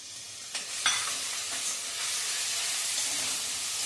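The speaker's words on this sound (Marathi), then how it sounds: "टोमॅटो पण छान परतून घ्यायचा आहे" Tomatoes sauté in a pan for Marathi masale bhat, giving a steady, soft hiss and sizzle broken by a few quick stirring scrapes.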